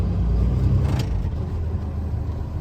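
Inside the cab of a truck creeping forward at about 5 miles an hour: a low, steady engine rumble with a brief rattle partway through, with no talk.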